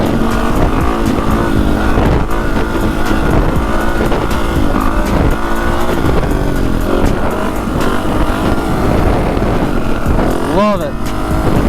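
Dirt bike engine revving hard while riding through Chicago city streets, a loud continuous roar with rising and falling pitch as the rider shifts, heard up close alongside wind noise and the rider talking.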